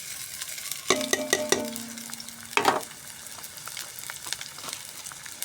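Onion and garlic hitting hot oil for a vegetable khichuri topping, a close steady sizzle with a couple of sharp clanks of a utensil against the pan, then the frying settling into a softer crackle.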